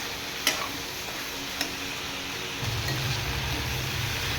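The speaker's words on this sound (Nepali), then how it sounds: "यता मासु भुट्दैछु।" Goat meat frying in a pan, a low steady sizzle with a couple of sharp utensil taps early on, then the frying swells louder and rougher partway through.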